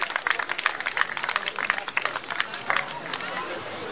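Crowd at an outdoor vigil rally in Braunschweig breaks into steady applause, dense scattered clapping with a few voices mixed in, fairly loud and sustained before tapering slightly.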